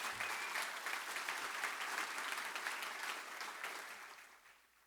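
Audience at a community housing fundraising summit applauds steadily, a dense wash of clapping that holds strong before tapering off toward the end, with no talking over it.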